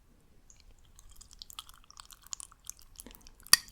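Cooked tapioca pearls for bubble tea are chewed up close, producing soft, sticky, squishy mouth sounds and small wet clicks in an otherwise quiet setting, ending with one sharper smack, without speech.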